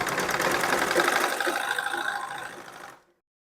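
A sewing machine runs steadily, stitching piping onto a blouse with a fast, continuous mechanical whir and rattle, close and loud, then stops abruptly.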